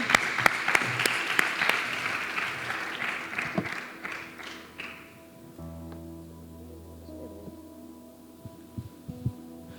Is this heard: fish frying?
no